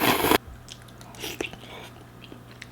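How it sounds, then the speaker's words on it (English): Close, quiet biting and chewing on instant ramen with egg and chashu: a brief rustling burst, then soft wet mouth clicks and chews in a hushed room. "bite the egg, may take some soup."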